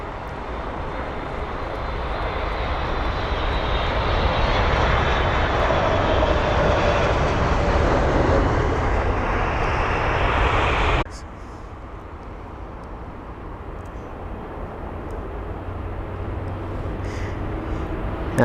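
A 15-year-old Japan Airlines aircraft on flight JL43 at London Heathrow roars past with a loud, steady jet engine noise that builds and then drops abruptly, leaving a fainter distant rumble.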